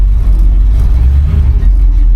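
A 1972 Ford Mustang engine rumbles loud and close as the car rolls out, a deep, steady, throaty drone with slight surges and no voices over it.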